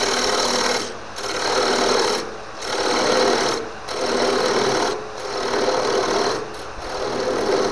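A 1/4-inch Robert Sorby parting tool, ground like a negative rake scraper, cuts on a lathe with a steady loud buzzing whir, broken by short pauses about every one to two seconds.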